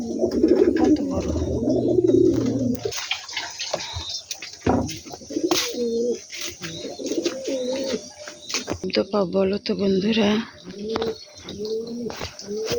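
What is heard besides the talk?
pigeon cooing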